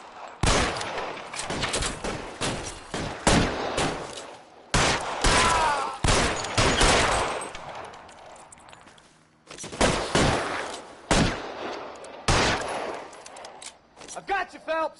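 Rapid bursts of gunfire in a shootout from a 1940s-style detective video game, with loud volleys of shots and pauses between them, and a voice talking faintly beneath.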